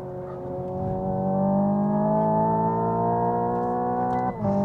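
Hyundai Ioniq 5 N electric car trail braking through corners, a steady synthetic engine-like drone with layered tones holding level and loud throughout, briefly dipping near the end.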